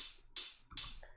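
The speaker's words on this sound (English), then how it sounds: "Just your standard quarter note hats playing straight." Bright, sizzling hi-hat hits ring out in a steady, evenly spaced quarter-note pattern, each one decaying before the next, with soft low thumps underneath.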